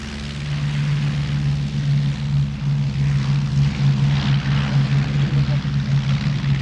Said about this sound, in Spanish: Webb despegó de Croydon el 11 de julio.